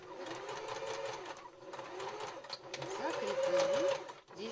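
A sewing machine stitches a bar tack on a tote bag, its fast, close mechanical whir running almost without a break, with a voice talking faintly in the background.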